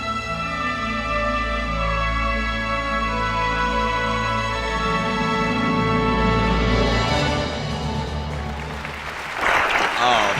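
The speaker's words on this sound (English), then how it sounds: "Thanks for that nice round of applause" Applause from an audience at a Comic-Con booth in 2012, steady and sustained throughout with a background music bed, building into louder clapping and cheering near the end.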